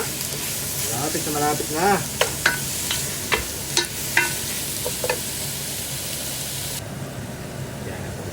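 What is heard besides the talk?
pork sautéing, sizzling in a pan for noodles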